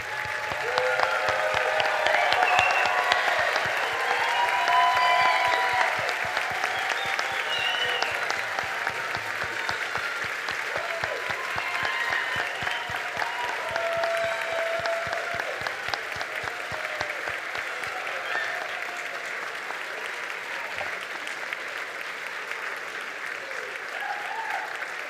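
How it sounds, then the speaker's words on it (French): Audience applauding graduates at a university graduation ceremony for the class of 2024-2025, a dense, sustained wave of clapping that holds strong throughout and eases slightly toward the end, with some crowd voices mixed in. "je vous invite à vous lever et applaudir une dernière fois, là, chaleureusement, nos diplômés"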